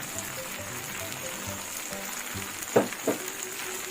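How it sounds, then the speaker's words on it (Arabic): A pepper mixture frying in a pan gives off a steady, dense sizzle, with two soft thuds late on as chopped tomatoes are added, close and continuous. "ابدا بقى الخطوه اللي بعد كده احط عليها الطماطم اللي متقطعه قطع صغيره"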